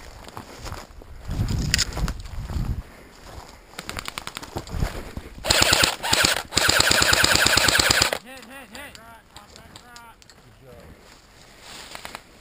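Airsoft guns fire during an outdoor base-capture match, with scattered shots followed by a dense, rapid burst of automatic fire lasting a few seconds, amid voices and rustling movement.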